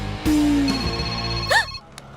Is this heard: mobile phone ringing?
yes